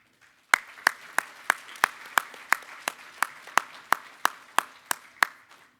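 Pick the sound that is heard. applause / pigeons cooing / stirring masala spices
applause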